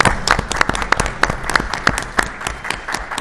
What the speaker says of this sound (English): if we can all just please give her a big round of applause